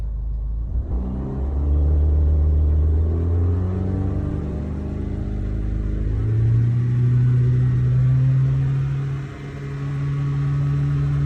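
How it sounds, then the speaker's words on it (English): A 2006–2011 Honda Civic engine idles, then rises in pitch as gas is applied, a steady close rumble that climbs, holds, dips briefly and returns, with no talking. "And I'm going to give gas again to see."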